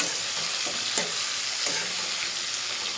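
Eggplant and tomato curry sizzles in a frying pan while a spoon stirs it, a steady close frying hiss broken by a few soft scraping strokes, with no talking.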